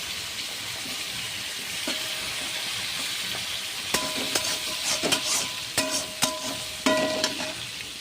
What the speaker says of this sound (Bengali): এবার আমি দেখুন বাকি মাছের মাথাগুলো ভেজে নেব।